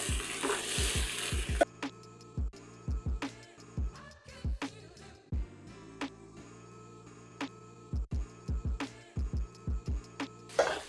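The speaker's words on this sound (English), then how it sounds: "So we're gonna add our butter in. And we're gonna let that melt, and then we're gonna start basting it over." Butter melts and sizzles in a hot pan for basting salmon. A loud burst of sizzling opens the clip, then a quieter crackle continues under rhythmic background music.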